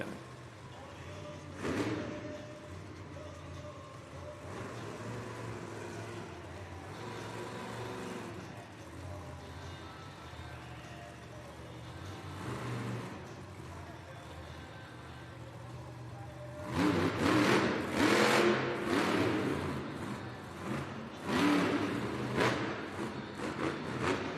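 A Monster Jam monster truck revs its engine inside an Allentown arena, a distant rumbling drone that swells into a louder roar near the end under crowd noise and an announcer's voice.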